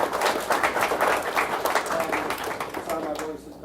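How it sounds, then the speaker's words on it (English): Warm audience applause for a speaker at a DEF CON 27 Red Team Village talk, steady crowd clapping that stays full for a few seconds and then begins to thin out near the end. "Please give him a warm applause"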